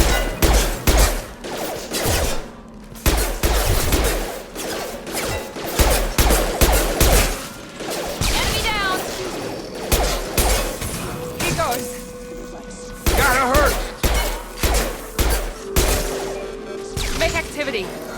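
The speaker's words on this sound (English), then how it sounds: "Hear that? Sounds like Fenris mechs." Combat from Mass Effect 2 with Fenris mechs fighting: dense bursts of gunfire, crashes and impacts rattle on throughout, mixed with clanking metallic hits and bits of chatter.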